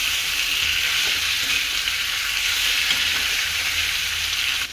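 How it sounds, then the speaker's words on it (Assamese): Boiled potatoes and bitter gourd fry in a pan with a steady, loud sizzle, broken by a few soft scrapes of stirring. "এতিয়া মই বইল কৰি থোৱা আলু আৰু ভাতকেৰেলাখিনি দিছোঁ। অলপ সময় ভালদৰে লৰাই থাকিম।"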